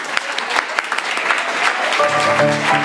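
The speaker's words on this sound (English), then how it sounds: "Let's give a big round of applause for this lady" Steady applause from a crowd at a musical event, dense clapping throughout, with a few musical tones creeping in near the end.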